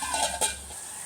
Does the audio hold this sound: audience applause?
no